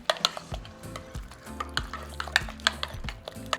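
A utensil scrapes and clinks rhythmically against a bowl while Parmesan cheese and egg are stirred together, each stroke a close, distinct knock with a soft wet churn beneath.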